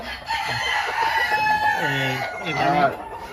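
Chickens of foreign breeds at a poultry farm, with a rooster crowing loudly and close up in a rising, stretched call amid clucking and low background voices.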